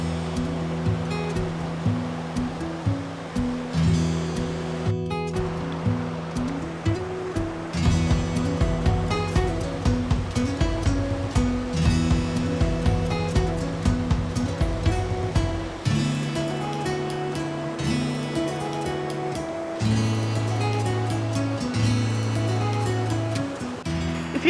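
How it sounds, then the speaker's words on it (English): Steady, fairly loud rush of a waterfall pours continuously throughout on Ireland's Beara Peninsula, with a tonal musical hum underneath. "There's something refreshing about running water"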